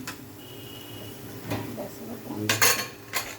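Metal pot lid lifted and set down with a couple of sharp clinks, followed by a spoon scraping and stirring food inside a home cooking pot, close and fairly quiet with brief louder clatters.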